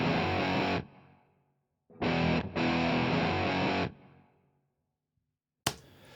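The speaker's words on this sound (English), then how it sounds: "elsewhere in the track, we've got some fuzz guitars" Heavily distorted fuzz electric guitar chords ring out in bursts, each fading into a reverb tail before the next, with a brief stab at the end.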